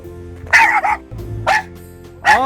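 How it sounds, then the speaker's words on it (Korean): A dog barks in three loud, close bursts spaced roughly a second apart, with short yelping edges and quiet pauses between them. "강아지 저 녀석 너무 시끄럽네"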